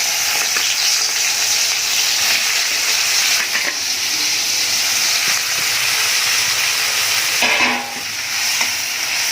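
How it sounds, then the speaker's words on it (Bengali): Continuous loud sizzling and hissing of prawns frying in a wok, with brief stirring bursts; close up, no voices. "এতে লবণ হলুদ মাখিয়ে এবার কড়াইতে ভেজে নেবো"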